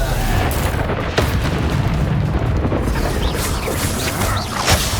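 A Depulso spell blast in Hogwarts Legacy lands as a dense, roaring boom that fills the whole stretch, with a few sharper pops breaking through near the start and end.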